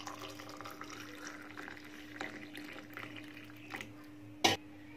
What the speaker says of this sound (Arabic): هننزل عليهم بقى بالميه المغليه دلوقتي